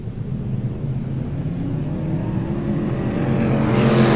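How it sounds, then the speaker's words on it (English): Modified rod race cars at a Newcastle speedway roar away at the start of a feature race. The loud engine drone rises steadily as the pack accelerates, with no voices over it. "Eric Lavender shoots to the lead as the green flag dropped and sends them away in the modified rod feature"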